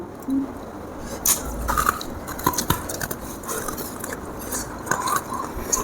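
Close-up crunching as something hard and icy is bitten and chewed, with irregular crisp crunches and scraping bites spread across the moment.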